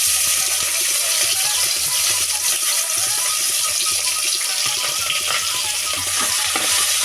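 Onions fry in oil with curry masala and cinnamon as mushroom biryani begins, giving a loud, dense, continuous sizzle with faint stirring scrapes underneath and no voices.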